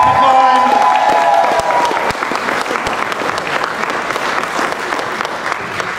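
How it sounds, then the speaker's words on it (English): A crowd keeps clapping for a District 9 county commissioner candidate at a Miami-Dade campaign launch, the applause steady and dense with a few sharp individual claps standing out. "Keep that applause going"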